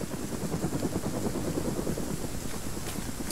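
A helicopter in a video game thrums steadily with rapid rotor chopping under a broad whooshing noise, constant and moderately loud, with no voices.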